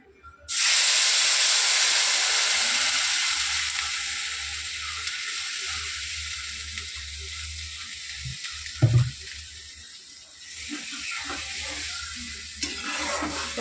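Water poured into a pan of hilsa fish curry bursts into a loud hiss of steam and sizzle that slowly settles into a steady bubbling simmer, with a few clinks of a utensil against the pan.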